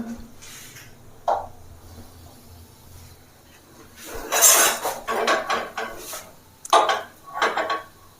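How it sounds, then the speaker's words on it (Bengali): A metal ladle is set down on a gas stove with a few sharp metallic clanks and scrapes, heard as separate bursts over a quiet background hiss. "গ্যাসের ওপর একটা হাতা বসিয়ে দেবো এভাবে"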